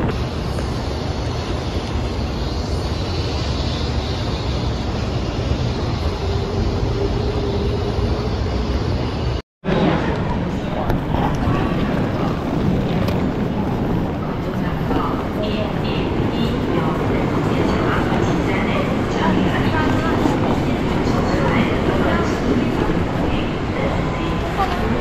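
A Taiwan High Speed Rail bullet train at a station platform gives a sustained, loud broadband roar and rush lasting the whole stretch, with a brief cut midway and voices faintly beneath.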